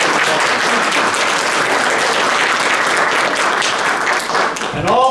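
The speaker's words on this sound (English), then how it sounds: "Let's give Donna a round of applause." An audience claps steadily for a Halloween program by a theater troupe, dense applause filling the room throughout, fading near the end as a voice starts to speak.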